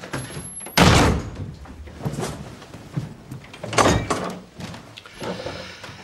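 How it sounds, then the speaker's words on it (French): A door is slammed shut at night in a home, one loud heavy bang followed by rattling and movement noises, with further thuds and knocks over the following seconds. "Ce soir, tu as le droit de claquer la porte."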